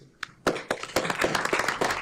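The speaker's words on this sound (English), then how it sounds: "We can give them a round of applause." Applause at a tribute gathering for Father David Engbarth, starting with a few separate claps and swelling into steady, fairly close clapping from a group.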